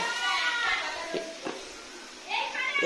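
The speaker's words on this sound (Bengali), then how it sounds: "আর পেছনে ব্যাকগ্রাউন্ডে শুনতেই পাচ্ছেন কিরম চেল্লামেল্লি হচ্ছে" Children shout and clamour in a home kitchen during wedding preparations, their raised voices coming and going in the background while an adult talks nearby.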